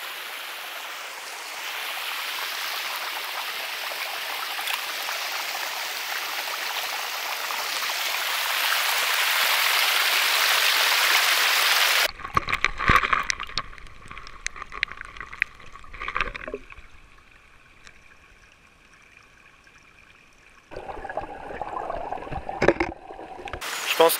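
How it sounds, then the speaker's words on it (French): A small river stream flows with a steady broadband rush for about twelve seconds, then gives way to close, muffled water gurgles, splashes and bumps from handling near the surface. "Bon, j'ai trouvé une petite rivière là"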